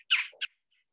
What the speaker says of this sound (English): poorly named woodpecker. I think he should be called the red mohawk woodpecker.